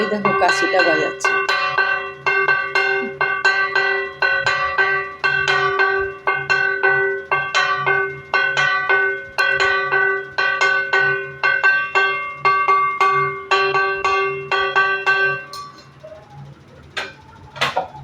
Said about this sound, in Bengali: এই দেখো কাশিটা বাজাচ্ছে